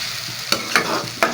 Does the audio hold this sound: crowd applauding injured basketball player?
no